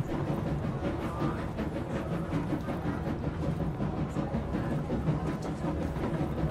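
A moving train in the video game Control: AWE gives a continuous, heavy low rumble with faint rhythmic rattling, steady and fairly loud for several seconds without talk.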